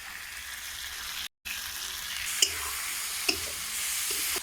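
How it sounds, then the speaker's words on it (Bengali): Spices frying and being stirred in a pan for chicken curry, a quiet continuous sizzle with a brief dropout and a couple of soft scrapes of the spoon, no voices. "মশলা কষানো হয়ে গেছে"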